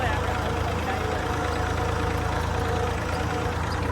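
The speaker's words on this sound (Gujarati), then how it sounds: "આપણે ટ્રેક્ટર ચાલુ કરી દીધું છે" Tractor engine idling nearby with a steady low throbbing hum, continuous throughout, with someone talking over it.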